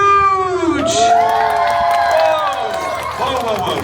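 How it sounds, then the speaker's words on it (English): A crowd at a Deadpool Christmas Carol stage show in Disney California Adventure cheers and shouts with some clapping, while loud voices ring out over the noise. "Whoa, stop the pity applause, all right? Stop cheering, okay?"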